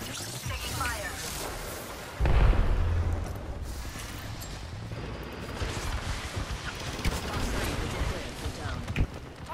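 Gunfire and explosions from the Apex Legends battle royale game: a heavy boom lands early, followed by dense, continuous crackling shots and blasts at a steady, loud level.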